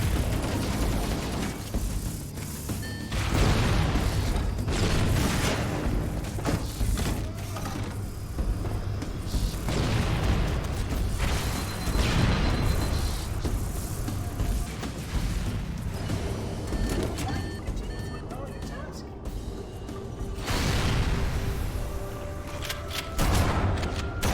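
Reactor explosions in the PC game Halo Combat Evolved Anniversary: dense, continuous booming blasts and rumbling detonations layered over mechanical clatter, loud and sustained throughout with repeated bursts of heavy impact.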